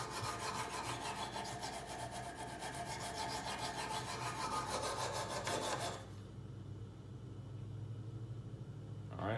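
Knife blade drawn across the stone of a Kazak UBR sharpener with U-adapter, a fast regular rasping scrape in quick repeated strokes that stops abruptly near the end, leaving a quiet hum.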